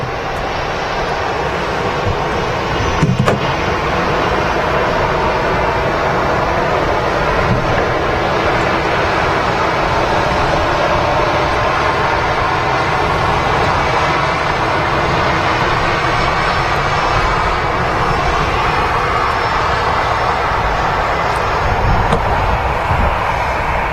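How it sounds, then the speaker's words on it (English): A Eurowings airliner taxiing out at Manchester Airport, a loud steady engine hum and rumble with a broad whooshing wash that holds constant throughout, no voices over it. "Also got a Euro Wings on the taxi out."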